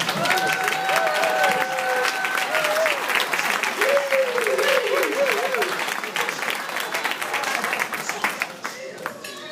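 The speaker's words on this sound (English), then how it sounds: "Round of applause!" Studio audience of a TV talk show bursts into sustained, loud applause with whoops and shouting voices on top, tapering slightly toward the end.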